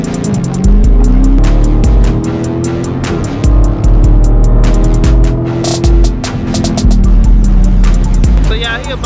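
A Dodge Challenger Hellcat's engine drones loud and steady from inside the car on a test drive, with rising and falling revs and rhythmic ticking over the cabin hum.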